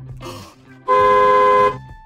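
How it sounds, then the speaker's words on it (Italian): A bus horn on a steam train outing gives one loud, steady honk of under a second, close and harmonic, after a moment of quieter background. "Questo è il clacson dell'autobus!"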